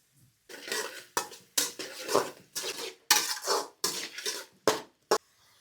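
Onions with curry leaves and green chillies cooking in oil in a pan for a duck curry, stirred in a run of loud, close scraping strokes with metal clatter and brief pauses between them.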